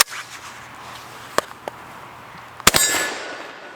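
A Beretta A300 Ultima Patrol shotgun fires with surprisingly subdued reports: a couple of sharp cracks, then a louder double report followed by a short decaying rumble, with no talking.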